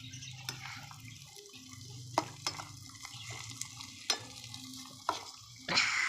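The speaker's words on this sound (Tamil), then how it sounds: "இப்போ நான் மிக்ஸ் பண்ணுறேன்" Vegetables are stirred in a pan, with light scraping and clinking strokes at irregular intervals over a low steady background hum, the last stroke a little louder than the others.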